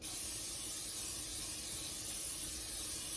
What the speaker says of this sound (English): And also gonna spray it a little bit too